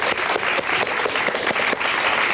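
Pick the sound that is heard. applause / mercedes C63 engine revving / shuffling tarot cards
applause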